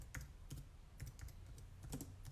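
Computer keyboard typing and mouse clicking, a close, quiet series of crisp taps in an uneven rhythm with no talk.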